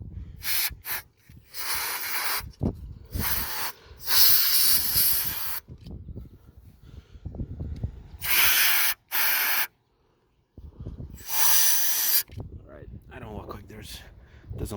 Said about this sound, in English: I brought just your regular dust remover, something you would spray on the keyboard